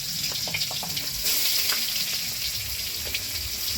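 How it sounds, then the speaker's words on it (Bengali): Garlic paste frying in hot oil in a pan after potatoes, a steady broad sizzle that swells louder near the middle, with faint scraping clicks and no talk. "যে রসুন দিয়ে দিলাম, রসুন বাটা"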